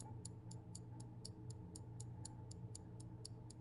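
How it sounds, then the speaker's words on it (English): Rapid, gentle ticking of an Omega Speedmaster mechanical wristwatch, about four even ticks per second held steadily close up against a faint constant background hum, with no talking. "If you hold a Speedmaster to your ear, you'll hear a gentle, rapid ticking"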